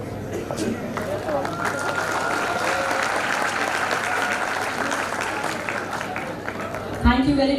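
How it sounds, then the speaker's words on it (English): Sustained applause from an audience at a live brainstorming session honoring a chief guest, steady dense clapping filling the hall for about seven seconds before a sudden louder burst near the end. "Give a huge round of applause for ma'am."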